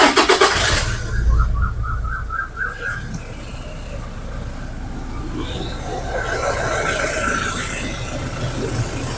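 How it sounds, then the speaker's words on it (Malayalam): A Toyota Fortuner is started, a brief cranking whir catching into a steady idle that carries on, while someone talks over it close by. "അപ്പോൾ നമുക്കിതൊന്ന് സ്റ്റാർട്ട് ചെയ്തതിൻ്റെ സൗണ്ട് ഒന്ന് കേൾക്കാം."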